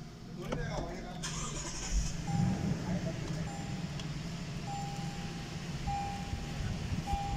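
A Lexus LS 570 engine cranks and catches near the start, then settles into a low, even idle hum, with a few soft electronic chimes and someone talking over it.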